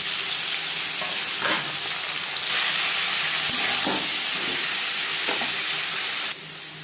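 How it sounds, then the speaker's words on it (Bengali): Halved pointed gourd pieces, washed and mostly peeled, fry in hot oil with a steady, close sizzle that carries on without a break and swells slightly partway through. "পটল ভেজে নেব"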